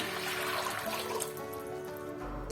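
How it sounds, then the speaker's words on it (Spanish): Water is poured into a small saucepan on a stove to start a syrup for pears. It makes a faint, continuous, gentle splashing trickle with no voices. "En una cacerola, o en este caso un cazo, vamos a colocarle el agua,"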